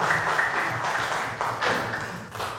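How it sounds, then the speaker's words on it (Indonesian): Applause in a classroom for a student group, with a small crowd clapping in uneven bursts for a couple of seconds at moderate volume. "kita kasih tepuk tangan untuk kelompok yang kedua ini"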